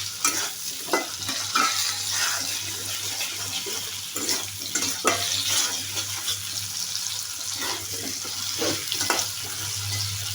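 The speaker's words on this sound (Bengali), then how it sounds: "আলুটা সুন্দর করে লালচে করে ভেজে নেব।" Potatoes frying in a pan for a cabbage and tangra fish dish, a steady sizzle with scraping stirs throughout, fairly close and continuous with no talking.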